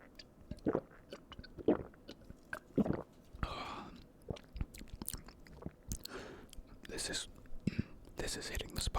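Close, quiet chewing of a Walmart chocolate cake snack, soft moist mouth clicks and smacks in an irregular rhythm, with faint whispering over a low room hum.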